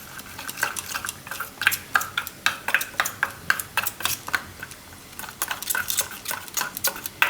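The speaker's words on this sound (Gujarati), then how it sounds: "અને મિક્સ કરી દેવાનું." Spoon stirring chutney thinned with a little water in a bowl, quick repeated scraping clinks in an uneven rhythm, close and clear without talk.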